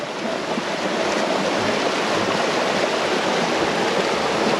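A waterfall near Chiang Mai roars steadily with a dense, constant rush of falling water, loud and close, with no voices.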